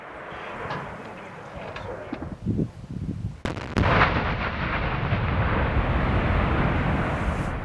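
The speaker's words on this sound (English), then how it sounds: "a rocket that deploys the explosive in a linear charge roughly 100 meters long to destroy mines" A Mine Clearing Line Charge loaded with C4 fires its rocket and detonates, a sharp crack followed by a heavy, sustained rumbling blast that rolls on loudly to the end.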